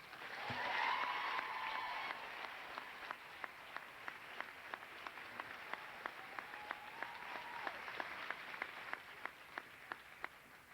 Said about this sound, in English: Join me in applauding Amanda Morse and Wendy Willett